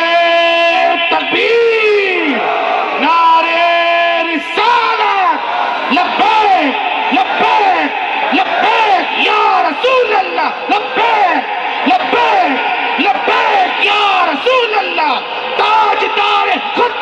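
A mosque-gathering crowd in Kaithoon, Kota roars back in unison to a takbir slogan call, loud massed voices rising in repeated chanted bursts that fill the space, with a strong sustained tonal shouting texture.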